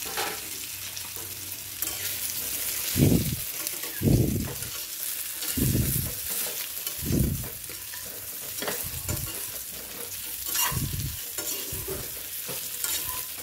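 Steamed funke stirred into a sizzling cumin and coriander tempering: a steady frying hiss with about eight rhythmic, heavy stirring strokes scraping through the pan.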